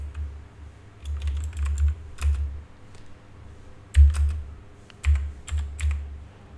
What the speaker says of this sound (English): press enter and then type